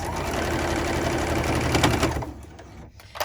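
A sewing machine runs steadily as it stitches fabric for a quilted basket, with a loud, even mechanical whirring for about two seconds that then stops, followed by faint handling noises.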